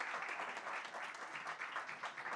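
An audience applauding at an evening gathering, dense and steady clapping heard fairly faintly and at some distance throughout.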